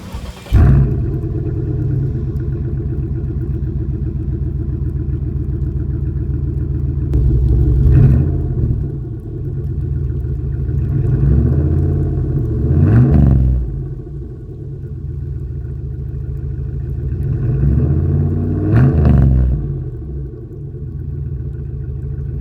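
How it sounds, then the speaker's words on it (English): Chevrolet Impala SS exhaust idling with a deep, steady rumble, then revved in three distinct blips spaced several seconds apart, each rising sharply and falling back to idle, close and loud with no talking. "we'll get to that exhaust clip about right now"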